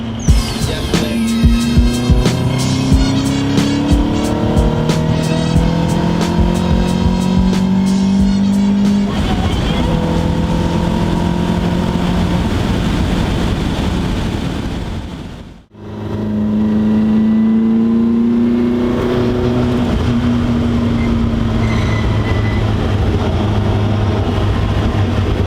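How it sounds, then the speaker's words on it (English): An Alfa Romeo GTA drives past with a rising and falling engine note, revving through gears under steady road and wind noise, a brief dropout midway and then more engine drone. "Graham owns a Alfa Romeo GTA."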